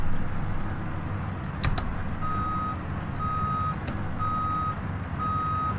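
A truck backing a trailer into a parking spot sends out a loud, evenly spaced series of reversing beeps over a steady engine rumble, with a brief clank partway through.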